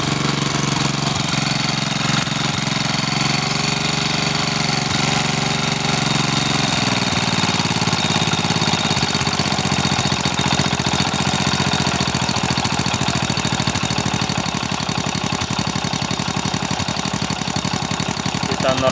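A motorcycle engine idles steadily and loudly up close while its throttle is adjusted. The running note shifts partway through and then settles into a rougher, pulsing idle.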